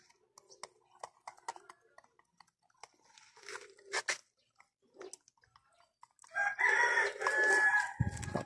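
Chickens cluck in scattered, sparse bursts, then a louder run of squawking and crowing breaks out near the end.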